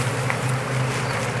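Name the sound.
bees buzzing at a new beehive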